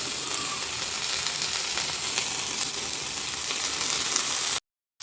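Ginger fries in a pan for vegetable biryani with a steady, loud hiss of sizzling oil that carries on throughout, close up and with no voices.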